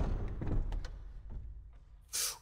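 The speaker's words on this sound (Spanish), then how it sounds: "La puerta se ha abrido." A door opening in the survival horror game Resident Evil HD Remaster, a game effect heard over quiet ambient rumble, ending in a short bright burst near the end.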